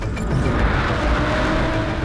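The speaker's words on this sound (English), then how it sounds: "in the roar of your engine" A car engine roars steadily in the racing game Gran Turismo 7, a dense, continuous mechanical drone with a faint higher whine riding on top, loud and unbroken throughout.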